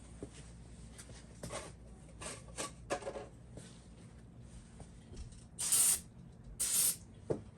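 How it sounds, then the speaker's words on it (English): Brake cleaner sprayed from an aerosol can onto parts of a Ford 5.4 engine being reassembled in a camper van, two loud hissing bursts near the end after quieter rubbing and handling noises. "Take your little rag, brake cleaner on it."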